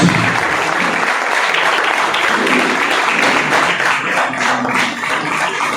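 Sustained audience applause fills a motivational business seminar hall, a dense, steady wash of many hands clapping at a loud level that eases slightly toward the end.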